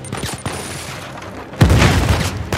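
A grenade blast and gunfire in Uncharted 4, with a few scattered shots and then a loud, booming explosion that rumbles on and fills the last second.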